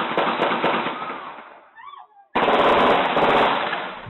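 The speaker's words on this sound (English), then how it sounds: "Dozens of shots are fired." Gunfire from three handguns and a short rifle during a robbery: dense, loud rapid bursts of shots, a short quieter gap with brief pops, then another sustained barrage of shots.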